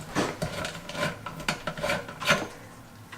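Plastic tap adapter being unscrewed from a Leveluk SD501 Platinum water ioniser, a close, scratchy rasping and rubbing of threaded parts in short repeated bursts over about three seconds, with no talk.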